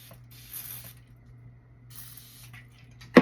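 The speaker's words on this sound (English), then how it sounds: "I'm just going to spray my sponge again" A setting spray misted onto a makeup sponge, heard as two soft hissing bursts close by, with a sharper click from the nozzle at the very end.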